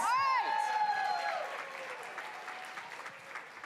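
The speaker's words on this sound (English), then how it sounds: "Let's give her a round of applause." Applause greets a speaker at a university startup showcase, opening beneath a brief ringing musical or electronic tone and settling into moderate, scattered clapping from the audience that gradually softens.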